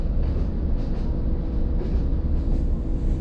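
Steady low rumble of a passenger train carriage in Bulgaria heard from inside, continuous and fairly loud with no voices over it.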